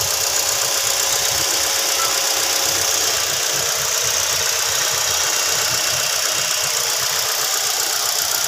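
A Ford Escape engine idles steadily while warming up after sitting unused, a loud continuous rumble with a faint ticking knock and even vibration throughout, close by and without speech.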